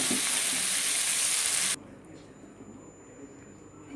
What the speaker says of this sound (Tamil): இப்போ இந்த முருங்கைக்காய் விழுதியும் போட்டேன் இதை நல்லா ஒரு ரெண்டு நிமிஷம் வதக்கிவிடலாம்